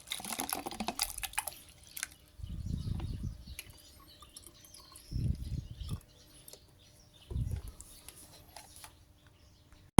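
Plain water pours into a bottle in several separate bursts of gurgling splash, each lasting about a second, with quiet gaps and faint background chirps between them, no talking.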